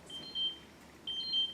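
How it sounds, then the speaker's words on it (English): Electronic beeping sounds in a room, two faint high-pitched beep sequences separated by a short pause over a low background hum. "I don't know what the beeping is."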